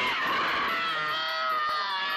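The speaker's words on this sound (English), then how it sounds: "These screams are authentic." An actress screams for real while being yanked sideways by cable rigs during a film stunt on the set of The Exorcist, a loud, sustained, strained cry with no other voices.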